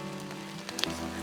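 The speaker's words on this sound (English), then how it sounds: "It's raining so hard" Heavy rain pours steadily during a cyclone in a forest, a dense unbroken hiss of drops hitting surfaces that fills the whole short moment without any voices.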